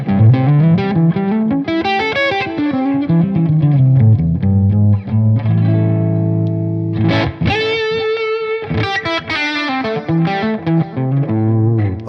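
Gibson R9 Les Paul electric guitar on its neck pickup, played through a ToneX high-voltage amp model with volume and tone full up: loud, overdriven chords and single-note runs, with a few sustained ringing notes partway through.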